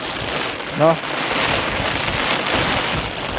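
Heavy monsoon rain pours down in the Gir forest, a dense, steady hiss of rain on surfaces close by, with a brief voice-like sound near the start.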